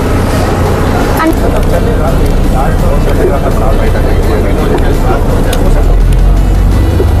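An airport shuttle bus carries passengers across the apron to their plane, its engine and road rumble a loud, steady drone from inside the cabin, continuous for the whole stretch.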